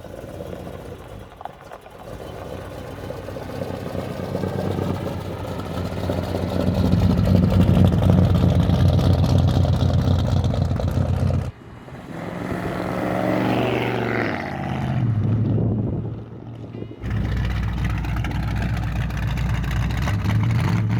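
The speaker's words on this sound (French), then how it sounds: "Ça m'a été demandé la semaine dernière de mettre un petit peu plus de son des V8" A Chevrolet Chevelle V8 rumbles steadily and loudly, rising in revs midway before a brief cut, then a lower burble and a renewed strong drone to the end.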